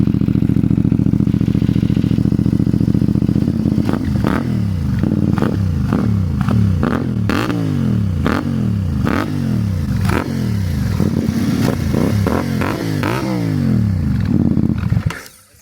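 A CF Moto 450 MT motorcycle fitted with a Yoshimura slip-on exhaust idles steadily, then revs up and drops back again and again in quick throttle blips, loud and close, before it cuts off at the end.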